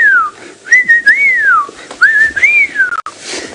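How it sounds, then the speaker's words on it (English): A white-faced whistling duck gives a series of clear, loud, sliding whistled calls in three phrases, close by and with no talk over them. "a white-faced whistling duck"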